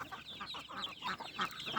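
Chickens clucking softly and repeatedly while eating soaked feed mixed with chopped leaves, a busy, steady murmur of close fowl sounds with no talking.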